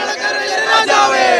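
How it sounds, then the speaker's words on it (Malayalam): A large, excited crowd gathered to welcome a religious leader in his home town of Poonoor, Kerala, raises a loud, dense roar of cheering and shouting voices close by. "ആവേശഭരിതമായി വൻ ജനക്കൂട്ടമാണ് ഉസ്താദിന് അഭിവാദ്യം അർപ്പിക്കാൻ വേണ്ടി കാത്തു നിൽക്കുന്നത്."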